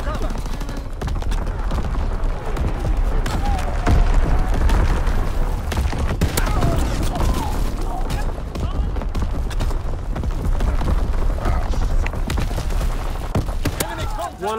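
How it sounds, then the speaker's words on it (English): Enemy artillery bombardment in the World War II shooter game Call of Duty WWII: a steady barrage of booms and crackling gunfire rolls on without pause, dense and loud throughout, with game voices mixed in. "Incoming enemy artillery. Get to cover. Enemy bomb incoming."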